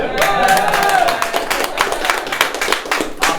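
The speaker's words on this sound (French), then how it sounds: "On les applaudit." Applause for a team at a team-building event at Holive in Beaumont-sur-Oise, a dense patter of claps from a small group, steady and close for a few seconds, with voices mixed in.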